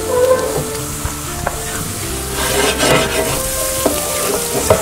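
A knob of butter sizzles and crackles steadily in a hot pan beside mushrooms, a loud close frying hiss with a few soft clinks of utensil against the pan, alone without talk.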